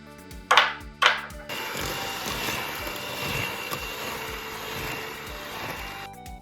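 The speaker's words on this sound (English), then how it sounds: "we're going to add just the egg yolk into this bowl and blend it until smooth" An electric hand mixer whirs steadily while blending an egg yolk in a bowl, preceded by two short sharp knocks, then a continuous buzzing drone with faint rhythmic rattling that cuts off at the end.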